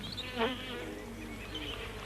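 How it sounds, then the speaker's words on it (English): Bees kept in palace gardens buzz in a soft, steady insect drone that swells briefly near the start, then carries on at low level with no talking. "They kept their own bees, you see, millions of them."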